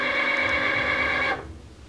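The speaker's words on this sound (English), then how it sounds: "I'm sorry if you can hear the Cricut in the background" A Cricut cutting machine runs loudly in the background of a sewing workspace, giving a steady whirring, motor-driven drone that stops abruptly partway through, leaving a quiet room.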